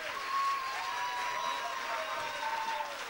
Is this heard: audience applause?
yes